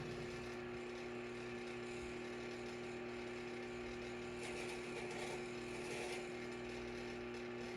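A Whirlpool washing machine runs in diagnostic mode with a steady mechanical hum and faint whirring, ticking and clicking, a constant close drone with no voices.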